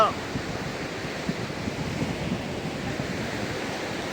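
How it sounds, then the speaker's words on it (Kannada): Continuous roar of surf with strong waves washing in at a Goa beach in the morning, broad and steady with some wind noise, no one speaking. "ಅಲೆ ಜಾಸ್ತಿ ಬರ್ತಾ ಇದೆ."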